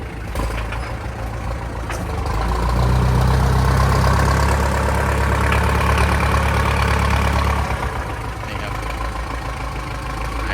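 A 2009 M5000SU farm tractor with a four-cylinder diesel engine sits idling, giving a steady low rumble that swells slightly in the middle and then settles, with voices murmuring faintly nearby.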